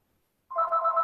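A mobile phone rings loudly during a church sermon on the biblical kings, a steady electronic warble that starts abruptly and sustains alone, with no talking over it.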